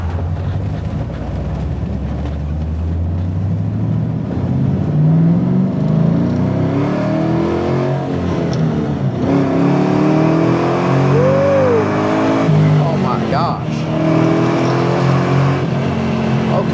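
1973 Camaro Z28 RS with an LS3 V8 restomod accelerating, a deep engine drone rising and falling through gears, steady and fairly close for the whole stretch.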